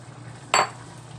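Corn soup with chili leaves stirred in a pot, a single short scraping swish of utensil against the pot over a quiet kitchen background.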